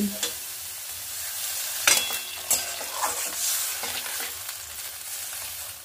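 Quinoa khichuri sizzling in a pan while being stirred, a quiet continuous frying hiss broken by several scraping, clattering spoon strokes.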